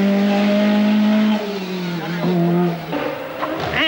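Rally car at full throttle on a stage of the 1985 1000 Lakes Rally in Finland, engine note loud and close, dropping as it lifts off around the midpoint, then revving again with gear changes.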